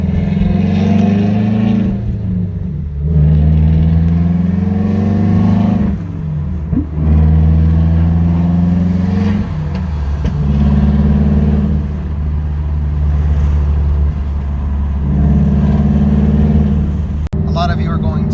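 A 2015 Subaru WRX with the FA20 engine and Tomei unequal length headers drives in traffic under load, its loud low exhaust drone rising and falling steadily while someone talks over it.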